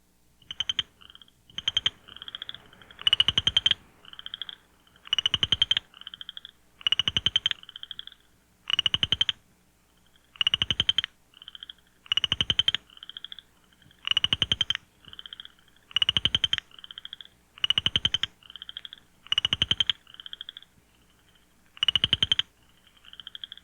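Two nearby male Pseudacris negrita frogs trade calls back and forth, each call a short rapid pulsed trill, about a dozen evenly spaced bursts alternating over a quiet night background.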